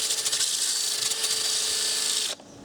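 A cheap power sander grinds against wood with a loud, steady, rough whir, then cuts off abruptly near the end, leaving quiet room tone.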